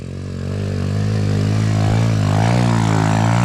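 A motocross bike engine revs hard on the throttle during a first attempt at a hill climb in the rain, a loud, steady drone that swells and climbs in pitch, with no talk over it.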